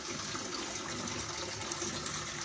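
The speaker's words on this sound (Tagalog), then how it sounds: "Ayan, nagkarga ng tubig." An American Home 7kg washing machine fills with water, a steady, continuous rushing gush that holds even and loud for the whole stretch, with no voices over it.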